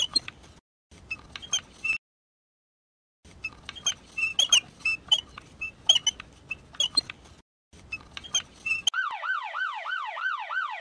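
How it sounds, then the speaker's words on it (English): Ambulance siren in the Pocoyo children's app game: bursts of chirpy, twittering game sounds with short silent gaps, then a bright electronic siren wailing up and down steadily at the end, no voices. "The ambulance is here."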